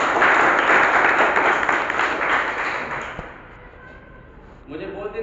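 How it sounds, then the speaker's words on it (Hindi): A crowd at a gathering claps for a guest, a loud dense burst of applause that gradually fades out over several seconds before a voice starts speaking. "हम चाहेंगे कि शिवपाल जी के लिए भी एक बार जबरदस्त ताली।"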